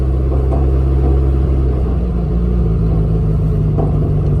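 A 1972 VW Beetle engine idles and rumbles steadily at low revs while the car rolls slowly across a bumpy yard, with a continuous close, loud drone throughout.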